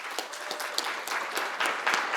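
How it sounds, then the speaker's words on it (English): Audience applause at a school wellness summit welcome session, a steady wash of many hands clapping at moderate volume with a few sharper claps standing out, continuing throughout. "Let's give it a round of applause"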